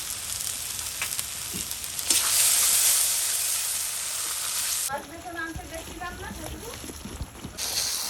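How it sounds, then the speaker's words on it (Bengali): Spices fry in a pan with a loud, steady sizzle, briefly swelling with stirring, while someone talks over the hiss partway through. "এই যে আমার মশলা কষানো হয়ে গেছে"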